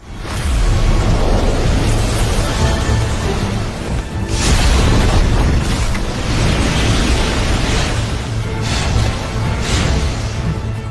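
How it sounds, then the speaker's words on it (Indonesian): A blast of energy roars through a forest in an animated fantasy battle, the deep rumbling explosion swelling loudly in several heavy surges that fill the whole clip. "menyergap kelompok Xiaoyan dengan ledakan energi yang menyapu udara hutan Jianan"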